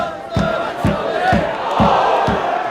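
A loud football crowd fills a stadium, chanting in unison with rhythmic claps or stamps about every half second over a dense roar of many voices.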